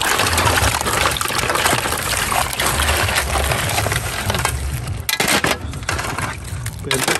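Crabs rinsed with water poured over them, a loud, close, continuous splashing wash with brief breaks and some rattling of shells.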